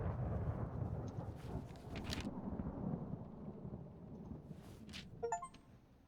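Steady rain and low rumbling thunder in the horror video game Layers of Fear, a continuous dense wash with a brief brighter crackle near the end, no voices.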